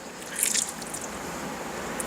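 Water pours and splashes briefly over a phone, a short wet gush followed by faint trickling.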